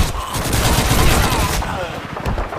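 Dense rapid gunfire from a Call of Duty World War II mission, loud and continuous close automatic fire with soldiers shouting over it.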